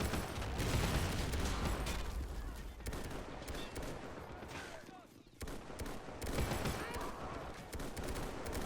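Artillery fire from a World War I battle in Men of War, set during the 1916 Easter Rising in Dublin, sounds as a dense, continuous barrage of booms and crackling shots that dips briefly midway, then resumes.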